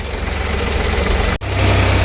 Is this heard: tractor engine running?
yes